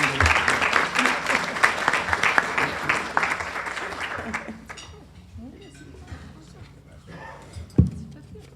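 Audience applause at an animal welfare event in Manatee County; steady, full clapping for about four seconds that then dies away, leaving a quieter room with faint stray sounds.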